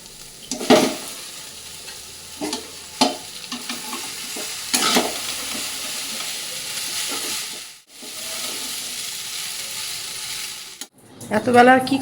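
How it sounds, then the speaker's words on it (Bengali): Boiled chowmein noodles are stir-fried in a hot pan, a continuous hissing sizzle broken by bursts of stirring and scraping, with a brief pause near the end. "চাউমিনটা সেদ্ধ করে রেখেছি সেটাকে দিয়ে দেবো"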